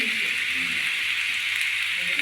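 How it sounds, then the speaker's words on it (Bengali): Kohlrabi pieces fry in hot oil, giving a steady, even sizzling hiss that continues without a break, close and fairly loud. "ওলকপিটা দিয়ে দিলাম তেলে, এটা একটু ভাজা ভাজা হয়ে গেছে"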